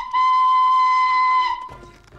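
A cartoon steam train's whistle blows loudly, one long, steady shrill tone for over a second, then cuts off into faint rumbling.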